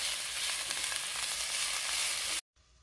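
Vegetables sizzle steadily in a hot pan while sauteing, a close, even hiss that cuts off abruptly near the end.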